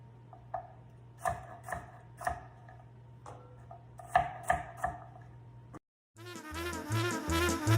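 A knife chopping through stacked potato planks on a cutting board, crisp irregular thuds, close and fairly quiet, with a low background hum that cuts out briefly near the end.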